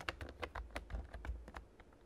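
Rapid keystrokes on a computer keyboard as a username and password are entered: a close, uneven run of sharp clicks and taps continuing throughout with no talking.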